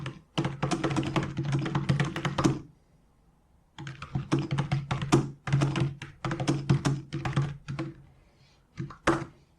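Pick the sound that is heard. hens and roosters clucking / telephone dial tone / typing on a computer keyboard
typing on a computer keyboard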